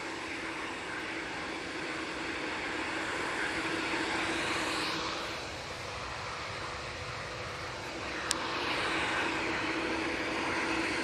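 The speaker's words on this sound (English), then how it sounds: "TUI Dreamliner" A TUI Boeing 787 Dreamliner airliner rumbles past at an airport, a steady broad jet roar that swells and fades with a faint whine on top, heard from a distance with no talk.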